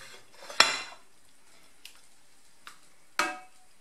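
Black beans spooned onto a plate beside rice at home: one sharp clink of the spoon against the dish, then a few fainter taps and scrapes spaced over several seconds, with no talking.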